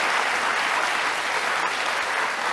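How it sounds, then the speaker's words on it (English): An audience at a Kamala Harris speech on price gouging applauds continuously, a dense, even wash of clapping with no voices over it. "Clap, guys. Please clap."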